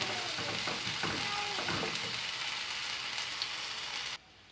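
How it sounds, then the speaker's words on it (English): Ginger garlic paste sautéing with fried onions in hot oil for mutton chukka, a steady dense sizzle with a few stirring scrapes early on, running continuously close up before cutting off abruptly near the end. "Now I'm adding 1 tablespoon of ginger garlic paste and saute it for another 30 seconds."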